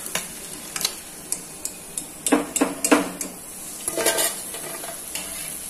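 Dishes and cutlery clink and scrape in a kitchen as a plate is taken out for freshly fried needle fish, with a series of sharp, close knocks and clatters around a quiet sizzling background.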